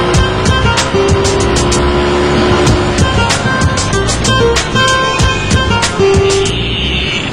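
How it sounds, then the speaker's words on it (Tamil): A car being driven, its steady engine and road noise loud and continuous throughout, with a faint hint of a voice. "வண்டி நல்லா ஓட்டுறேனா?"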